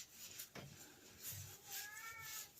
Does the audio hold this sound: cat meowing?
yes